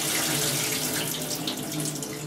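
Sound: pouring water and pomegranate seeds into a strainer

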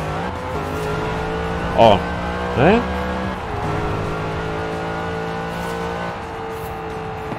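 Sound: car engine and tires in video game Forza Horizon 4

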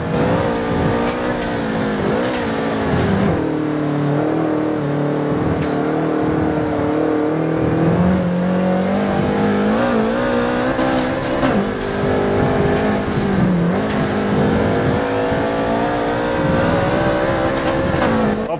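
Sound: Subaru BRZ car engine racing in Forza Motorsport video game

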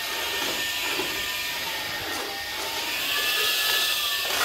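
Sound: vacuum cleaner running

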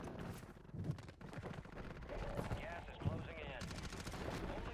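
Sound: gunfire in the Call of Duty video game

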